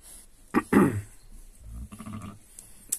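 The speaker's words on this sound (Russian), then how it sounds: "Он подзывает, смотрите, видите, подзывает ягнят к себе." Two or three short bleats from a ram or sheep, fairly close, separated by quiet pauses with faint rustling between.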